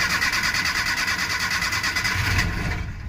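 A Maruti Omni with a morning cold-start problem cranks on its self-starter in a steady, rapid rhythmic chug for over two seconds, then the pulsing gives way to a rougher low rumble, loud and close.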